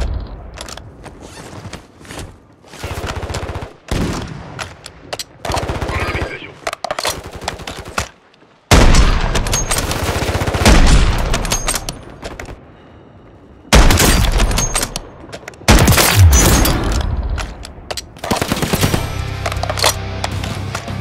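Gunfire in Call of Duty Warzone 3: loud bursts of automatic fire and single shots come in dense, repeated volleys with brief pauses, some heavy booming blasts mixed in.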